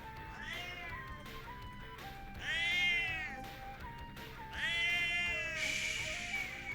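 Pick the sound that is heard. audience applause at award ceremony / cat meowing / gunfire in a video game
cat meowing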